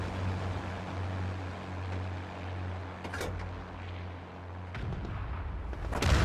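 The Bat. Chatillon 155 58 self-propelled artillery gun in World of Tanks fires a heavy, booming shot near the end, after a steady engine drone with a few softer thuds.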